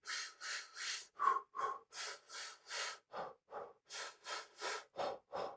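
Close, rhythmic breathing in short repeated bursts, quick breaths in groups with brief gaps, like a runner pacing inhales and exhales.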